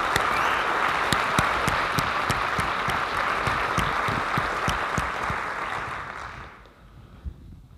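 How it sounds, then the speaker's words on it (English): A conference audience at a user experience design event gives the organisers a long, loud round of applause, dense steady clapping with a few sharp individual claps that fades out abruptly near the end. "everyone just gave the organisers a massive round of applause for organising such a fantastic event"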